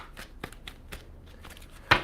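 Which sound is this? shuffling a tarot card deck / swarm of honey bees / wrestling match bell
shuffling a tarot card deck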